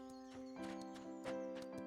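Horse hooves in the video game The Ranch of Rivershine, a quiet clip-clop of several evenly spaced steps over a steady musical background.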